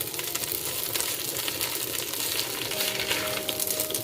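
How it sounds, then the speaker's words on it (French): Vegetables and carrots cook gently in a pot over low heat with a continuous soft sizzle and crackle, close and steady, with a faint tone joining near the end. "je vais laisser mes légumes cuire environ 2 minutes vraiment à feu doux dans ma marmite"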